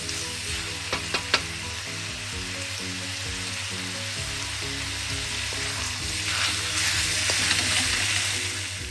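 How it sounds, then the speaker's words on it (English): Pork pieces frying in a pan for Filipino adobo, a constant close crackling sizzle with a few stirring knocks early on and slightly louder spitting toward the end, with background music underneath. "You're going to fry your pork until it's slightly brown."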